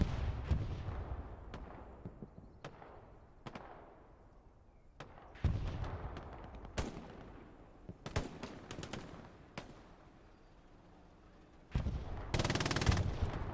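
Machine gun fire in the Hell Let Loose video game during a competitive match, with repeated sharp bursts and single cracks spread across the clip, some loud and close, others more distant, above a low rumbling battlefield backdrop.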